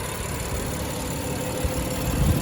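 A 2019 BMW M4 with carbon fiber trim sits running at a steady idle, its low engine rumble close and continuous, swelling slightly louder toward the end.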